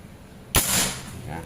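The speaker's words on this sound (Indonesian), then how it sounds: "tembakan ketiga kita langsung ke pecahan batu batanya ya" A single sharp crack from a Predator Ataman Crane PCP air rifle (2700 psi, 30 cm seamless barrel) fired at broken brick fragments, followed by a short noisy decay.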